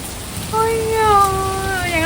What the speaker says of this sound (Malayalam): നല്ല മഴ എന്ന് പറഞ്ഞാലും പോരാ, നല്ല ഇടിവെട്ട് മഴയാണ്